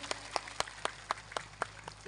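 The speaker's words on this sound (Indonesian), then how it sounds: "tepuk tangan dong buat jamaah Darunisa" A small women's religious congregation claps faintly and sparsely, with about eight distinct hand claps spread evenly over two seconds against a quiet room hum.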